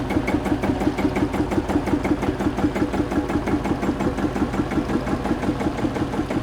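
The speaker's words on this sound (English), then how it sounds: "number 136, which is a Massey Ferguson 35, manufactured in 1959. This is one of the last 4-cylinder standard diesels that were in production" A 1959 Massey Ferguson 35 tractor's four-cylinder standard diesel engine runs steadily at a rapid, even knocking idle, loud and close, with no speech over it.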